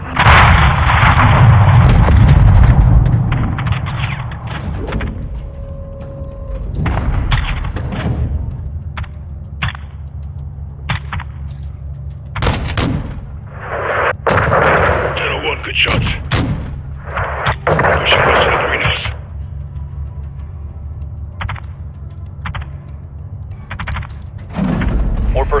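Heavy 40mm gunship cannon rounds pound a building in a Call of Duty: Modern Warfare II close air support mission, loud booming blasts and bursts arriving in irregular clusters, with radio chatter between volleys.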